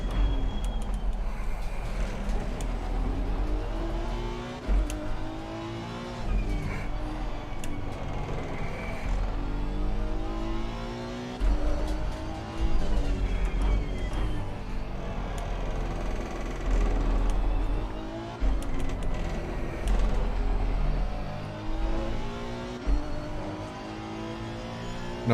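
Race car engines roar around the Nurburgring in a racing game championship round, rising and falling through gear shifts and braking with overlapping cars close by, loud and continuous for the whole stretch.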